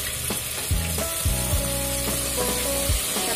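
Tomatoes and green chillies fry in hot oil in a pan for squid curry, a loud continuous sizzle broken by repeated scraping and stirring strokes of a utensil against the pan.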